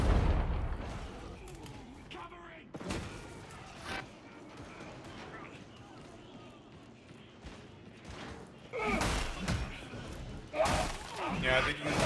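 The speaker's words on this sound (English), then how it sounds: "Barrel's got to blow!" An explosive barrel blows up in the video game Darktide, with booming thuds and crashing blasts among game effects, and a voice talking over parts of it.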